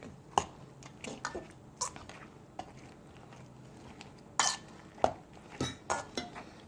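A French toast mixture of eggs, cinnamon and maple syrup being stirred, heard as quiet, irregular clinks and taps of a utensil against a bowl with brief pauses between strokes.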